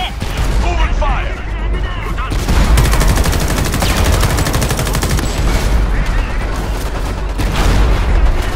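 Sustained gunfire in the Xbox One shooter Homefront: loud, dense volleys of rapid automatic shots with booming impacts fill the whole stretch, while shouted voices break through the battle noise.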